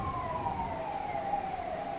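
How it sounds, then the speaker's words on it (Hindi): An ambulance siren outside a hospital wails in a steady, falling tone, heard faintly from a distance with no talk over it. "एम्बुलेंस आई हॉस्पिटल में"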